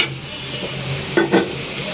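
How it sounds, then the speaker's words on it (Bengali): Fried meat goes into hot oil with salt, cumin and coriander powder, setting off a steady close sizzle broken by a couple of brief scraping stirs. "আর এই ভাজা হলো মাংসটা এটা দিয়ে দিলাম"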